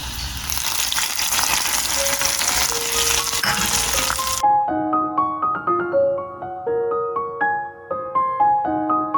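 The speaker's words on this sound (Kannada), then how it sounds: "ನಾನಿಲ್ಲಿ ಬೆಳ್ಳುಳ್ಳಿ ಒಗ್ಗರಣೆ ಹಾಕ್ತಾ ಇದ್ದೀನಿ" Garlic tempering sizzles loudly in hot oil for a cucumber sambar, a steady close crackle that cuts off abruptly and gives way to a short melodic music passage.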